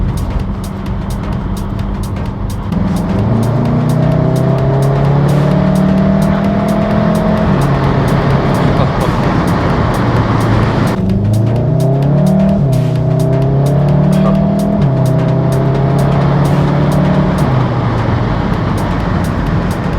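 A VW Mk7.5 Golf GTI or Golf R winds through small villages, its engine note droning steadily and rising and falling through gear changes, loud and close from inside the car with no talking.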